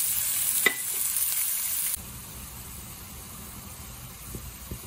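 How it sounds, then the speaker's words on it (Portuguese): Ground beef sautéing with seasoning in a pan, a loud close sizzle at first with a stirring scrape, then a softer, quieter frying hiss for the rest. "agora eu vou deixar refogar bem refogadinho"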